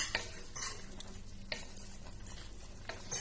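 A spoon scrapes and clinks against a pot of boiling chicken adobo with rib meat, liver and gizzard in irregular strokes, faint bubbling underneath, quiet and close.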